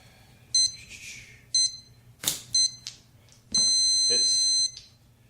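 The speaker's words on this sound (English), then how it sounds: "when the loud beeps occur" A game clock timer at a Warmachine tabletop wargame match gives several loud, sharp electronic beeps in short bursts, then one longer sustained beep, with quieter room noises and thumps between them.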